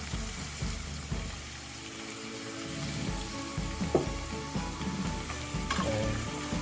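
White radish cubes fry in a hot pan, giving a steady close sizzle that runs throughout, with a few scraping stirs and light clinks rising above it.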